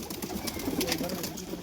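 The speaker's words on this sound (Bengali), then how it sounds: "দেশি পায়রা?" Domestic pigeons coo softly in a loft, a brief run of low murmuring calls close by against a faint background hum.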